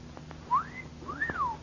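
A man whistles two sliding notes, each rising and then falling, the second longer and swooping, fairly quiet over a faint background hum in an old radio drama.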